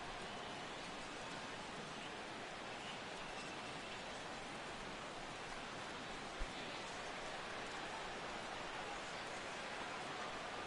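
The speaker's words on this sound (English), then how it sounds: "The rain, as we've mentioned, coming down fairly steadily here at game time." Steady rain falls at a ballpark during a baseball game in MLB The Show 16, a constant, even wash of hissing noise with no break across the whole stretch.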